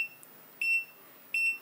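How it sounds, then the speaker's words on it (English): The touchscreen buttons of an Anycubic Photon Mono M5S 3D printer give two short, clean electronic beeps about a second apart in a quiet room, each a bright high tone. "The voice option is just a sound for when you click on buttons like this."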